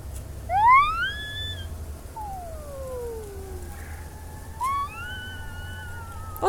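A voice imitates a siren, with rising and falling wails repeated three times against a low background hum.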